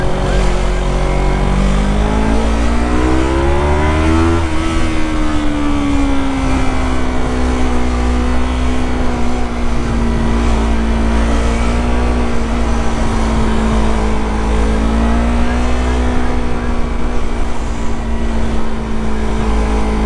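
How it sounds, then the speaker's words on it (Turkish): A Yamaha MT-25 motorcycle's exhaust drones steadily while riding on the road, its engine note rising as it revs up early on, then holding a loud, continuous pitch with slight shifts throughout. "arkada egzoz öyle bir çatara patara ediyor"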